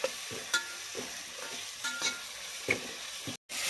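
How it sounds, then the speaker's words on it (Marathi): Spice masala roasting with onions in a pan for egg dum biryani, heard as a steady close sizzle broken by rhythmic scraping strokes of a spatula, with a brief dropout near the end and no voices. "मसाला भाजून घ्यायचा आहे त्या कांद्याबरोबर."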